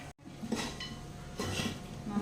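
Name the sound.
stirring chicken curry in a cooking pot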